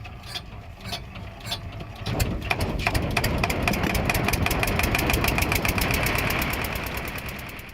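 A motorboat engine running steadily, rising from a quieter start into a loud, continuous mechanical drone with rapid rhythmic ticking, heard close up with no talking.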